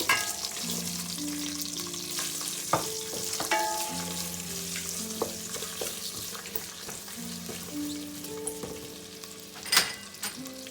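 Onion frying in hot oil with mustard seeds popping, for a Tamil-style aubergine curry, a steady close sizzle with scattered sputters and stirring scrapes throughout.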